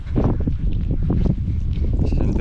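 Wind gusts buffet the microphone on a drizzly outdoor walk in the Kėdainiai district near Okainiai village, a loud low rumble that swells and dips throughout.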